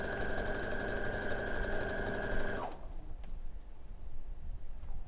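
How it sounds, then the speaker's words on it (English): Sewing machine chain piecing quilt units, a fast, steady mechanical whir that runs for a couple of seconds then stops abruptly, followed by quieter handling noises and light clicks. "make sure that the edges are lined up underneath the foot of your machine,"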